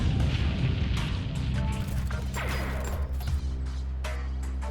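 Building collapsing in a video game, a dense continuous roar of rumbling, booming crashes and crackling debris, loud and sustained with sharp bursts layered over a heavy low rumble.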